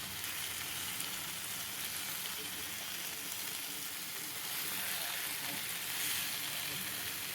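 Masala fish sizzles and fries steadily in a hot pan, a close, even crackling hiss that continues without pause.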